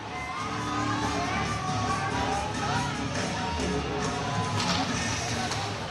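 Neshoba and Northbridge fans yelling and cheering in a packed boys' varsity hockey rink, a dense, continuous roar of crowd noise filling the space at high volume throughout.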